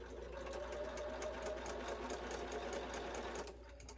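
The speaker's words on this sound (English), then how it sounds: "I'm going to sew my 1/4 inch seam." A sewing machine stitches a quarter-inch seam on a double wedding ring quilt piece cut with an Accuquilt die. The close, steady rhythmic whir runs continuously and eases off slightly at the end.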